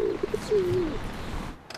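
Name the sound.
pigeon cooing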